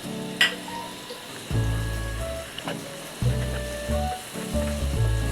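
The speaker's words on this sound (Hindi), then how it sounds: "प्याज के बाद इसमें लहसुन अदरक का पेस्ट जा रहा है, ये तकरीबन 2 टेबल स्पून है। थोड़ी भुनाई करेंगे।" Garlic-ginger paste fries with onions in a pan for a beef kofta curry, giving a steady close sizzle with bursts of stirring and crackle throughout.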